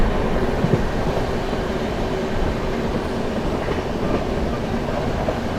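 The 12417 Prayagraj Express runs at high speed on the rails, a loud, close, continuous roar with rhythmic clickety-clack of wheels over joints throughout.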